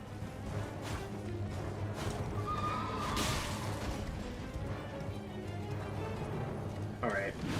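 Horse neighing in the video game Elden Ring, a whinny rising out of a busy combat soundscape with game music and effects, while someone talks over it.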